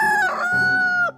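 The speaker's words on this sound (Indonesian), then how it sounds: "Saung, kenapa kamu berkokok terus?" A rooster crows once, loud and close, a long harmonic call that cuts off abruptly at the end.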